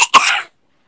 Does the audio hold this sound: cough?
yes